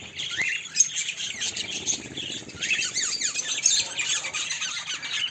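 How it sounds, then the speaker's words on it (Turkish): Several cockatiels chirp and squawk continuously in an aviary cage, shrill calls overlapping at a steady, moderate level with no voices. "Eski kafesimizdeki ilk sultan papağanı çiftimiz de burada."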